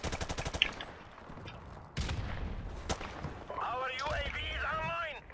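Bursts of gunfire in Call of Duty: Modern Warfare Remastered crack out amid excited talk, with rapid shots early on and a couple of sharp single blasts later.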